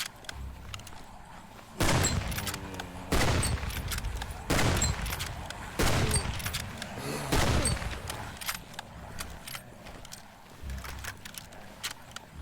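Gunfire in the game Conan Exiles: about five loud, close bursts of rapid shots, each roughly a second long and spaced evenly, with a quieter rumbling background between them.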